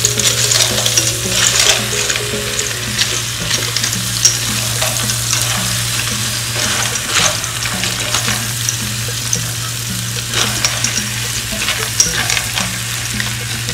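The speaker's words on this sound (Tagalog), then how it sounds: "And yung macaroni. Haluin lang po natin." Macaroni being stirred in a frying pot for a sopas soup, with a steady sizzle and repeated scraping strokes of the spoon against the pot, set over a constant low stove hum.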